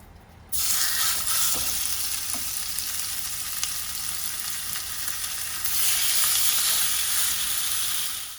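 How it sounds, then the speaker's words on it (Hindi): Chicken pieces laid one by one in an oiled frying pan over a slow flame give off a loud, steady, close sizzle that swells briefly near the end, with no voices. "चिकन मैंने फ्राई पैन पे डाल दिया है।"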